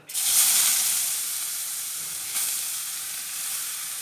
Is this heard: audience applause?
no